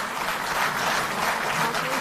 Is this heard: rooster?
no